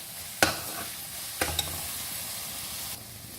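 A spoon stirs potato halwa with sugar in a pan over a medium flame, making a few sharp scrapes and knocks against a continuous soft sizzle.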